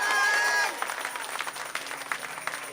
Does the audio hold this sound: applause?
yes